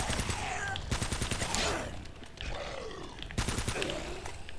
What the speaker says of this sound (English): Basically emptied a full magazine on two zombie things.